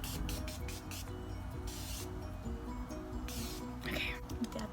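Several quick hissing spritzes of makeup setting spray sprayed onto a face, in uneven bursts, heard close up under soft talking.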